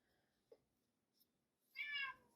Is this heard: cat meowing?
yes